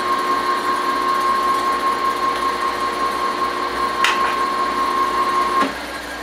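A South Bend lathe runs steadily while burrs are cleaned off a 5C collet adapter key pin, giving a constant motor hum with a steady whine that cuts off near the end, plus a brief scrape.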